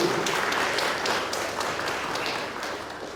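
A church congregation claps in praise during a Spanish-language sermon, a dense, steady patter of many hands filling the room at moderate loudness with no voices over it.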